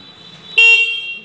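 An E Future electric scooter's horn gives a single sharp, bright honk that starts abruptly and holds steady for under a second, close and loud, with no one talking.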